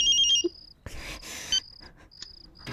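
A telephone rings in short electronic trilling bursts, clear at the start and returning intermittently amid rustling and thuds, in a Hindi drama scene.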